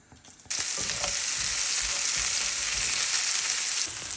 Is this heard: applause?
no